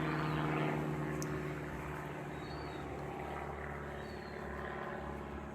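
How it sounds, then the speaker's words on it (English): Airplane passing overhead, a faint broad engine rumble that fades gradually, heard alone in a quiet home setting. "as another plane goes over"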